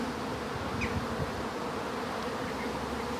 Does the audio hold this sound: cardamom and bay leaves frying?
no